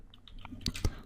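Light typing on a computer keyboard while writing JavaScript code: a few soft, scattered key clicks, then two louder taps close together, all fairly quiet and near.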